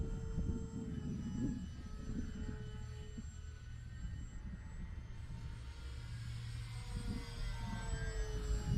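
An Avios BushMule V2 RC airplane flies on a calm day with almost no wind. Its motor is a faint, continuous hum with a gently shifting pitch as it passes. There is no speech.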